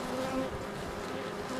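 A honeybee at the hive gives off a steady, close buzz that holds an even drone throughout the short stretch.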